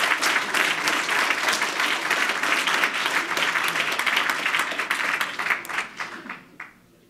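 Audience applause at the Marius Lavet prize award ceremony: dense, sustained clapping from a crowd that holds steady for several seconds, then thins into scattered claps and fades out near the end.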